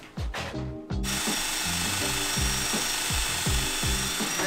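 A power drill bores through wood during the build of a solar dryer, its motor whining loud and continuous after a brief start, close by with a rhythmic grinding pattern and no talking.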